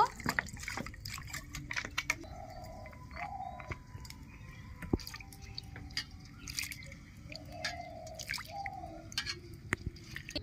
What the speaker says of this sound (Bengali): ভালো করে ধুয়ে নেব।